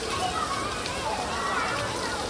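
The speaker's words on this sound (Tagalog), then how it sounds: "Ang lakas ng ulan!" Heavy rain falls around an outdoor gazebo beside a swimming pool at Mission Hills Shenzhen, a constant loud wash of drops and splashing water filling the air without pause.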